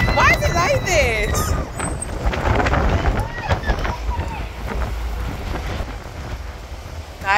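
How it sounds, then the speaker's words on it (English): Strong wind buffets the microphone outdoors on a New Year's night out, producing heavy, uneven low rumbling gusts, while voices are heard faintly through it. "it's so windy."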